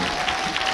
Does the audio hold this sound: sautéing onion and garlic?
no